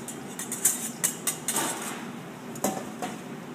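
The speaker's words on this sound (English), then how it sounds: "add your egg whites to the liquid there. Whisk it up together." Egg whites whisked into liquid in a bowl for consommé, a quick run of clinking metal taps against the bowl, bright and fairly close, with a few sharper knocks and no talking.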